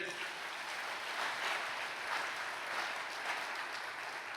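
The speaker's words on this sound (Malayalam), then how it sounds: "ഒന്ന് കൈയടിച്ചേ" A congregation at a Christian prayer service claps together in a steady, dense wash of applause that fills the room evenly from start to finish, with no voices standing out.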